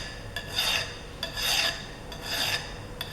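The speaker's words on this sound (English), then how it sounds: "It's only a smooth file, it's not taking much off." A smooth hand file rasps a burr off a metal drill gauge in three slow, even strokes, each one a loud close scraping sound with the file lifted between strokes, no talking.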